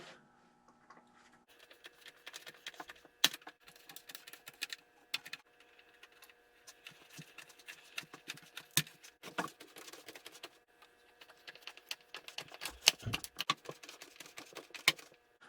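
Screws being fitted into a Dalek build, heard as a scattered series of small, close clicks and taps with irregular rhythm and quiet gaps, alone without talk.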